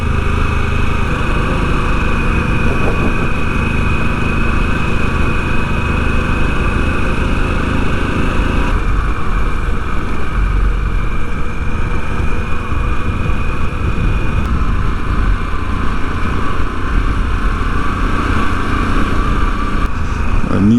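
A Harley-Davidson Pan America motorcycle riding on open roads in Colorado, its engine droning steadily with constant wind rush, loud and unbroken with no talking.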